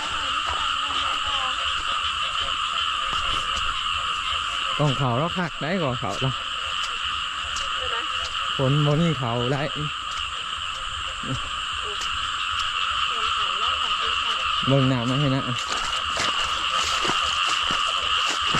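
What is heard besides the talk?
frogs croaking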